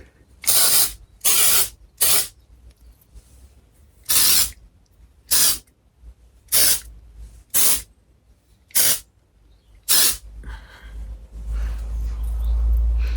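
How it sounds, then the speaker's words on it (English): Living Proof texture spray misted onto hair in nine short, crisp hissing bursts with brief pauses between them, very close to the mic, followed by a low rumbling handling noise at the end. "I am going to go in with a texture spray, the Living Proof one that I showed you earlier"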